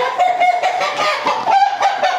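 A native village rooster clucks repeatedly at close range, a rapid series of loud, uneven calls with no talk over them.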